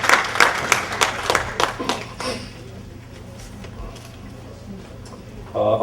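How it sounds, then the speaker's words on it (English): Scattered hand clapping from a dinner audience at a recognition event, a few loud claps up front that thin out and fade within a couple of seconds, leaving a quiet room hum before clapping rises again at the end. "let's give them all a nice round of applause"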